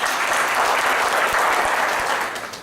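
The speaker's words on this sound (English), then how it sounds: "Please give them a round of applause." A round of applause from an audience at a spring alumni reunion banquet, close and even clapping from many hands that holds steady before fading slightly at the end.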